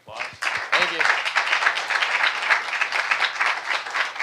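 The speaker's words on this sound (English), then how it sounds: "Give you a round of applause." Round of applause from an audience at a high school engineering capstone presentation, steady dense clapping filling the room for several seconds, with a voice speaking briefly at the start.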